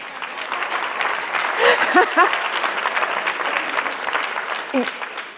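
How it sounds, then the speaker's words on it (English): Audience applause at a medical foundation leadership conference fills the room, a dense steady clapping with brief vocal exclamations and whoops over it, sustained throughout. "You're clapping for yourselves"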